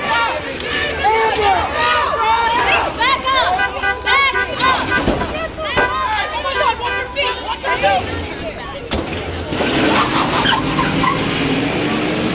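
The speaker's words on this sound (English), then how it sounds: "You'll see the mob swarm a truck. The truck drives away and in the chaos ends up crashing." A truck swarmed by a mob drives away through the chaos in replayed footage, its engine and movement buried under loud, continuous crowd shouting and babble, with people yelling throughout.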